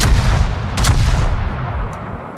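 Heavy battleship guns boom repeatedly in a naval combat video game, a dense low rumble of overlapping salvos with a sharper blast near the start and a rolling decay.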